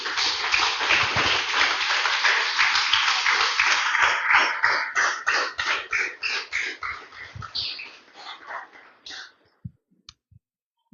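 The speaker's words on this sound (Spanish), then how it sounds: "Déselo fuerte el aplauso" A church congregation claps loudly in a dense burst of applause that slowly thins into scattered individual claps and fades out near the end.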